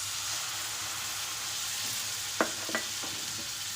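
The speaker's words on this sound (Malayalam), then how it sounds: "എന്നിട്ട് ഇനി നമ്മൾ 2 ടൊമാറ്റോ അരച്ച് വെച്ചിരുന്ന ആ പേസ്റ്റ് ഇതിലേക്ക് ഒഴിച്ചു കൊടുക്കാം." Ground tomato paste going into a hot pan for stuffed capsicum gravy: a soft, steady sizzle with a few quick clinks of a utensil against the pan, faint and close, no talking.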